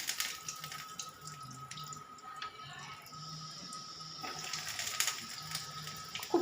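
Chicken cheese balls deep-fry in plenty of hot white oil in a kadai, giving a steady, close bubbling sizzle with faint pops and crackles, no talking.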